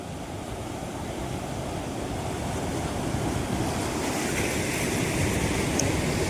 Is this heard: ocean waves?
yes